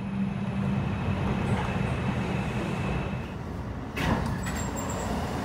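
A New York subway 2 train runs toward Brooklyn College with a loud, continuous rumble and rattle, broken near the end by a brief sharp screech and clatter.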